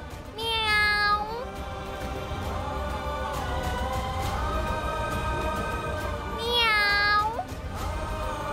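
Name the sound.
girl imitating a cat meowing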